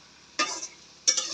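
Turmeric paste stirred into a Bengali curry in a pan makes two short, crisp stirring scrapes with a light sizzle, separated by a brief quiet gap, and nothing else is heard.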